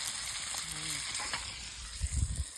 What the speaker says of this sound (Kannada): ತವಾ ಫ್ರೈ